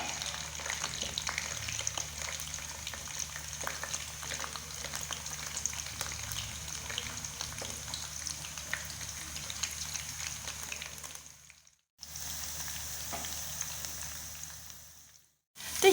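Onions frying in hot oil for a vegetable pulao give a steady, close sizzle that hisses continuously, briefly cutting out twice before resuming.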